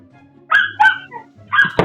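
A dog gives a quick run of loud, close barks, two yaps close together, then a pause and two more, with a faint low hum underneath.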